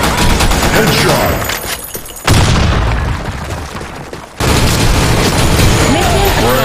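Close, loud game combat from a desert shooter map: bursts of rapid gunfire and booming grenade blasts crowd together, broken by two short quieter gaps, with a game voice calling out over the action.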